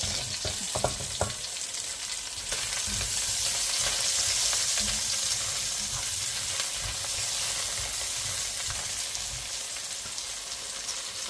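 Onion and garlic sautéing in a pan for Filipino chicken afritada: a loud, dense, continuous sizzle close up, with a few spatula knocks near the start and no voices.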